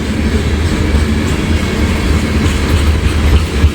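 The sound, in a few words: freight train with oil tankers rolling past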